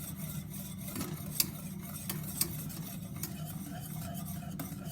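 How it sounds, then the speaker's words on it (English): Homemade eggnog mixture being whisked in a saucepan, a steady soft scraping churn with a few sharper ticks of the whisk against the pan, close and continuous with no talking. "we're going to just whisk it"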